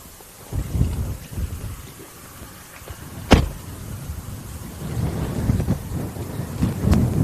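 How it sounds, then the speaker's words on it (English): Strong wind blowing outdoors along a scenic Alaska mountain highway, a steady low rumbling gust with louder swells and a sharp buffeting thump midway, continuous throughout. "It is going to be windy."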